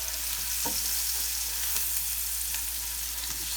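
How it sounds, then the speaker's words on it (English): Onions sizzle steadily in a pan for a quick goulash, a continuous close hiss of frying with a few soft stirring scrapes and no talking. "We're just going to melt our onions."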